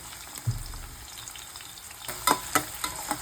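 Onions frying in oil with green chillies and curry leaves in a pan. A continuous sizzle is broken by a thud early on and several sharp spoon-scraping clatters near the end, with no voices.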